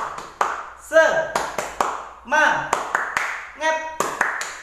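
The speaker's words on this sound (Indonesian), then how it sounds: "Tepuk semangat." Patterned spirit clapping led in an online children's class, short bursts of claps in rhythm alternating with a voice chanting along, close and clear.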